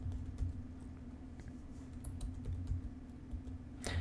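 Soft clicking keystrokes on a computer keyboard tap in an irregular patter, close and fairly quiet, while code is entered in a NetBeans editor.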